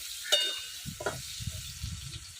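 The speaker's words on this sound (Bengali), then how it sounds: "আলুটা এদিকে ভাজাবো" Potatoes with salt and turmeric sizzle in a pan over a bamboo-wood fire, a steady low crackle broken by several soft scraping stirs, close and fairly quiet with no talking.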